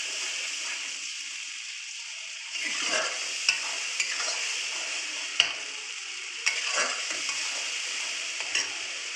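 Spiced chilli paste for koi fish bhapa sautés lightly in a pan, a steady soft frying hiss broken by scrapes and clinks of stirring that grow busier partway through, with no one talking.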